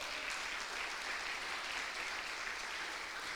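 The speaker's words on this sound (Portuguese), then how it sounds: "Bata as palmas para Ele." A church congregation claps hands together, a steady dense wash of applause filling the room at an even, moderate level with no talking on top.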